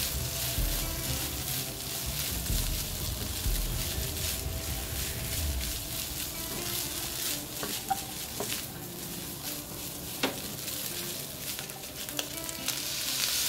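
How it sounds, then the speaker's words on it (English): Cold overnight rice sizzling and frying in a hot wok over high flame, with occasional scraping and clinks of stirring, continuous and close. "Increase the flame and stir everything together."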